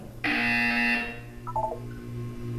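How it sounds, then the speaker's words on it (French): A single loud buzzer tone sounds in a Portal test chamber, a harsh sustained blare lasting under a second, followed by a brief quieter trill of beeps over a low hum. "Vous allez entendre une sonnerie"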